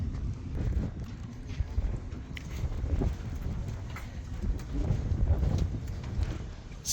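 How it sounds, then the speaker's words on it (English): Strong wind gusts at the Roosevelt Arch in Gardiner, Montana, buffeting the microphone in a loud, steady rumble with rising surges, with no other clear sounds over it. "so windy."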